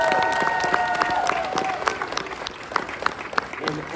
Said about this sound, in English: I want a round of applause right now for you